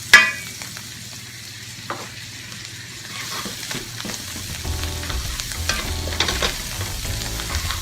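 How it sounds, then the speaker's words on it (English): Butter sizzles on a hot tawa while tawa chicken cooks. A sharp clatter comes first, then a soft hiss that grows into a steady, busy sizzle with stirring scrapes. "I am going to add a little bit of butter just for the taste"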